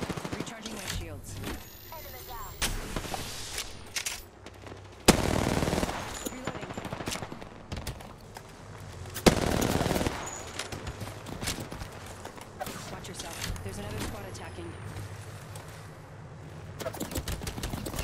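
Rapid bursts of automatic gunfire and single shots crackle through a ranked battle royale video game match, with sharp loud reports at intervals over continuous game noise and some talk.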